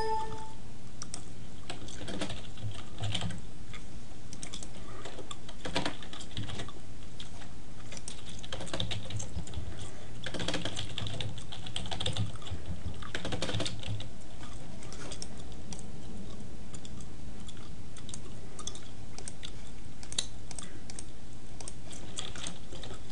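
Steady typing on a computer keyboard, with quick runs of close, crisp key clicks and short pauses between bursts, no talking.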